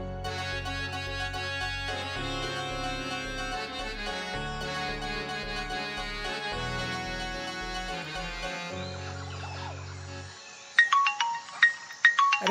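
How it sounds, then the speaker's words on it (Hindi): A phone ringtone plays a repeating melodic tune with a steady beat at a roadside tea stall, loud and continuous for about ten seconds, then it stops and a few sharp bright tones follow. "अरे किसका फोन आ गया रे?"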